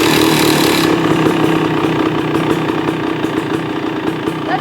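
A TSP 300XC two-stroke dirt bike engine with a TBI power kit catches and settles into a steady, loud idle, its buzzy running sound continuous and close throughout.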